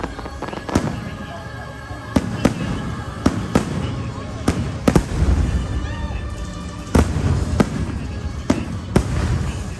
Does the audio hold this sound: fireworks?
yes